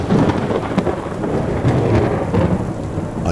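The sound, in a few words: storm with thunder and rain lashing windows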